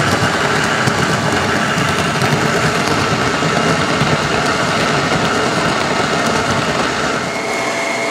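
A stone grain mill grinding fresh spelt into flour, giving a loud, steady, dense whirring rumble that runs unbroken and close throughout.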